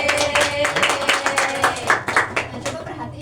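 Classroom applause during a maths lesson, a short burst of scattered hand claps from a group of students, close and fairly loud, with a voice talking over it.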